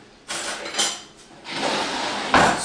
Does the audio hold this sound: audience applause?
no